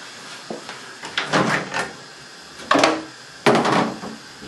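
Several clunks and thumps of a microwave door being opened and shut, with a couple of sharp closing clicks near the end.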